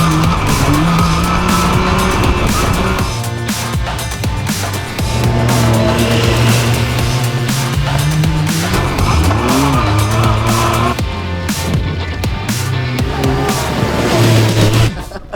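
A Yamaha 100hp+ 4x4 buggy on demo laps, engine roaring and rising and falling in pitch as it slides sideways, with repeated tire squeals and skids close by.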